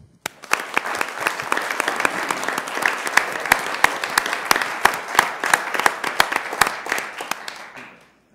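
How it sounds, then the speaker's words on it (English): Dense, sustained applause from an audience at a Sioux Falls city event, steady and lively for about eight seconds before fading out abruptly at the end. "Let's give Joel and his family a round of applause"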